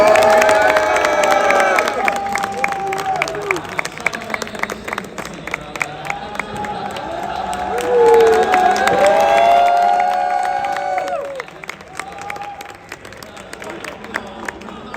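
Crowd of esports fans at a Call of Duty event at EWC 2025, a dense roar of cheering and shouting that swells and fades across the span, with voices heard in and among it.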